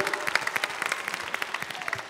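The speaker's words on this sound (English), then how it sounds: "can we all give our wonderful teachers a big round of applause?" Audience applause for teachers at a Musical Explorers children's concert at the Holland Center, a lively, moderately distant patter of many hands with distinct individual claps.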